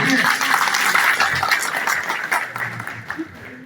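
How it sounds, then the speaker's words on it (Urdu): An audience at a Pakistan Jewellers Association address breaks into loud, continuous applause that gradually thins out, with some voices mixed in. "حاجی صاحب کی باتوں پہ بھرپور تالیاں بنتی ہیں."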